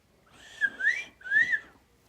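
A person whistles a two-part catcall, a rising then falling tone repeated twice, clear and close with no other sound behind it.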